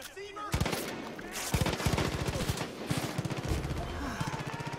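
Rapid bursts of automatic gunfire aimed at the player in Far Cry 5, dense repeated volleys with a sharp onset and then sustained crackling shots throughout.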